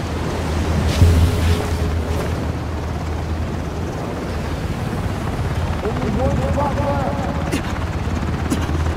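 A helicopter in the video game Ring of Elysium, a steady rotor drone held loud and close for the whole stretch, with players talking over it.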